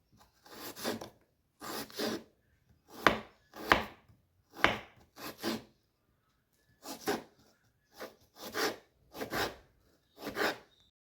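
Knife chopping food into thin slices on a cutting board, about a dozen crisp, distinct strikes in uneven bursts, close and clear with no talking.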